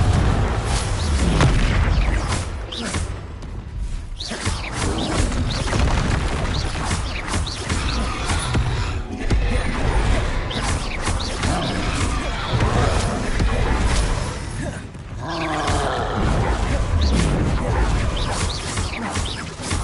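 Repeated booming spell explosions from Bombarda and Confringo in the Hogwarts Legacy video game, loud and dense with low-end blasts and crackling debris throughout, layered with game combat effects.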